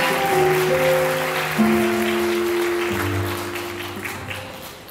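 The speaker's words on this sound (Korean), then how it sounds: "여러분 따뜻한 박수 부탁드립니다" Wedding guests clap in a large convention banquet hall, a broad, steady wash of applause filling the room while music plays over it.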